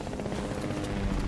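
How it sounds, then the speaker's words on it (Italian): A helicopter in the Fortnite battle royale game, a loud, close, steady rotor thrum that fills the short stretch without any talk. "Ma ci hanno spaccato l'elicottero."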